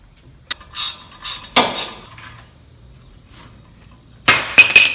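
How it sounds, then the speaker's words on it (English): Ratchet with a 12mm socket breaking a bolt free on a Honda Civic during front lower ball joint work: a few sharp metallic clicks and creaks up close, a pause, then another quick burst of ratcheting. "this guy back here is a 12mm on our standard socket. Go ahead and break this free."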